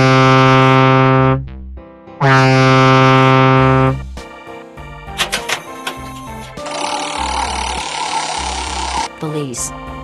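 A boat horn sounds in two long, loud, steady blasts separated by a short pause, followed by mechanical clatter and a noisy rushing wash.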